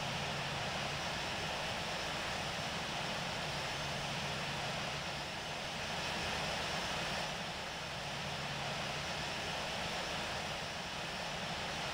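Steady simulated jet engine roar of a CRJ-700 taking off in the Infinite Flight game, a continuous dense drone holding level throughout with no talk.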